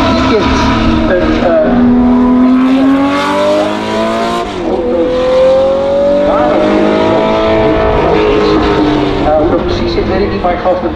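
Porsche race cars on demo laps at Zandvoort roar past with rising, revving engine tones that swell and fade as they pass, loud and close, with a commentator talking over them.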